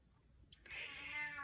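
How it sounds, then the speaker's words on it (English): A cat lets out a single clear, drawn-out meow, fairly close and moderately loud, after a brief quiet moment with a faint click. "There's the cat."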